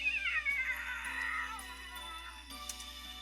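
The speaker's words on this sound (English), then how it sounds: "it lets out a single disgruntled meow" A cat in The Fruit of Grisaia video game lets out a single drawn-out, disgruntled meow that wavers and falls, close and clear over a steady low hum, with faint music tones behind.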